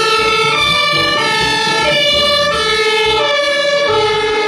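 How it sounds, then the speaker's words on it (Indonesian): A red toy fire truck sounds its electronic siren, a loud, steady wailing tone rising and falling in repeated cycles with a busy, tinny harmonic character, close to the microphone and heard alone. "Wow, ini ada mobil pemadam kebakaran."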